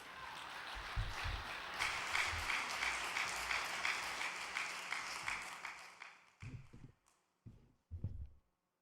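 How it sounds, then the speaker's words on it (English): An audience at a Cheonshim Won special devotion service gives a round of applause that swells, holds steady, then thins out near the end, followed by a few isolated thumps like footsteps. "Please give him a big round of applause"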